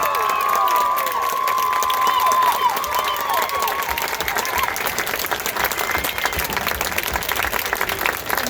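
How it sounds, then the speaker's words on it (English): A large crowd applauds and cheers for a marching band awarded Grand Champion at a competition awards ceremony. Dense, steady clapping and shouting continue throughout, loud and sustained. "Let's give one final round of applause to our Grand Champion and Reserve Grand Champion."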